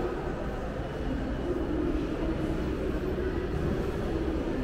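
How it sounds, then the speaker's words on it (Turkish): A steady low rumble of rail traffic with a continuous mechanical drone at Sirkeci train station, Istanbul, loud and unbroken, no voices. "Şimdi Sirkeci tren garından çıkıyoruz"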